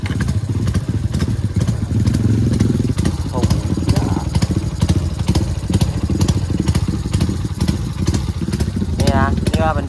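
A Honda 110i motorcycle fitted with a 56 mm piston revs hard and loud up close, its engine roaring steadily with sharp throttle blips and some clatter, while someone talks over it.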